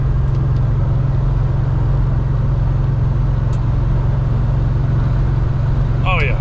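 Inside a truck cab cruising on a big highway with the window rolled up, a loud constant low engine and road drone with faint rattles, and a brief voice near the end.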